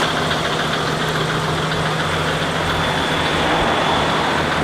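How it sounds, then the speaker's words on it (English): A brand new engine in a four-wheel drive idles steadily at close range, a smooth continuous rumble with no speech over it. "A nice purr of a brand new engine there."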